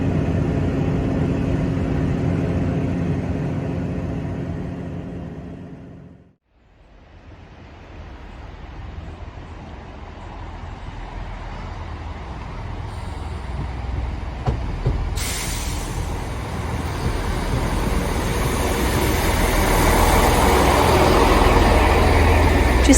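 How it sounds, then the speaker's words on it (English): Inside a moving train heading toward Bradford-On-Avon, a steady low rumble of wheels and carriage noise fills the space, briefly dipping quiet before building back up and growing louder toward the end. "I can show you now from the inside of the train going towards Bradford-On-Avon"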